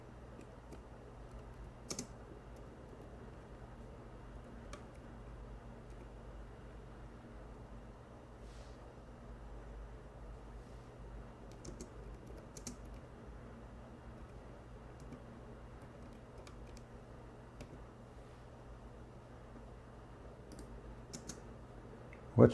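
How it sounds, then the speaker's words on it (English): Typing on a computer keyboard, a quiet steady patter of key clicks with occasional louder taps, heard close over a faint background hum and ending with a sharper knock. "Oh, I'm typing in English."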